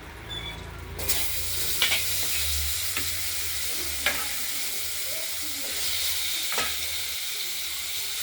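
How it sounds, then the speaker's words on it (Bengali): Steady sizzling of potatoes frying in hot oil with cumin, with occasional stirring scrapes, continuous and fairly close. "এবার আলুগুলো ভাজতে দিয়ে দেবো।"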